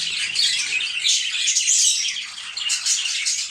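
Many small birds chirping and twittering together in a steady, busy chorus, close by, with no talking.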